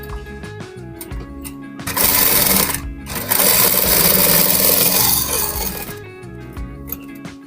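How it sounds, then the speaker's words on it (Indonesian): Sewing machine stitching straight seams on fabric for a scrunchie, running in two sustained bursts of steady mechanical whirring, loud and close, with short pauses and light handling clicks between. "jadi kita jahit lurus, kita jahit dulu bagian yang panjang"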